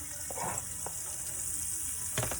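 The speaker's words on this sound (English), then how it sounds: "And to that, I am going to add my onion and my garlic. Here goes the onion. I want to saute that real quick." Onion and garlic saute in a hot pan for rajas con crema, a soft steady sizzle with a few light scraping stirs.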